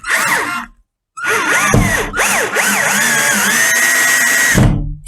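A cordless power drill drives screws into a wall to mount a towel rack, whining in short bursts that rise and fall, then a long steady run, loud and close with a brief pause after the first burst.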